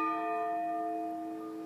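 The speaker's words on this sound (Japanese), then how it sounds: "8時ちょうどの鐘" Sapporo Clock Tower bell striking at eight o'clock on a snowy day, a single sustained, ringing tone slowly fading, faint and heard from outside.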